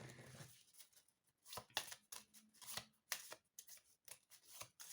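Playing cards shuffled by hand at a table in several quick riffling bursts with short pauses between, close and fairly quiet.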